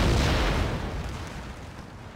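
Deep cannon and artillery fire from the Empire Total War battlefield rolls out as a loud, continuous booming rumble that slowly fades over a couple of seconds, with no voices.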